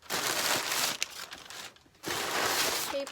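Packing paper crinkles loudly up close while a blanket is unboxed, two bursts of rustling separated by a brief quieter gap.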